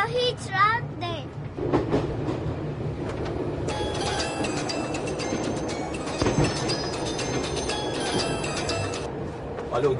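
A moving train rattles and clatters steadily with a continuous rumbling, jostling noise throughout, while people talk over it.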